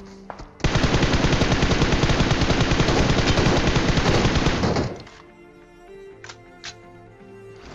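An M4 rifle firing in a video game, one long loud unbroken burst of rapid automatic fire lasting about four seconds, followed by a few faint distant shots.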